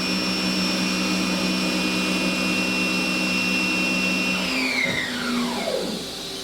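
A Haas EC-1600-5X horizontal CNC machining center spindle whirs steadily at 3,500 RPM, a loud sustained whine with fixed high tones that then glide downward as the spindle winds down near the end.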